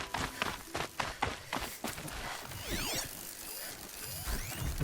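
Crab-like robotic machines in Horizon Zero Dawn scuttle nearby with clicking, ratcheting mechanical footsteps and gear whirs, plus a rising sweeping synthetic tone partway through.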